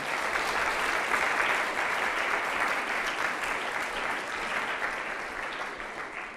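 A college audience claps steadily to welcome president Dr. Scott McAlpine, dense sustained applause filling the hall at even strength for several seconds before tapering slightly.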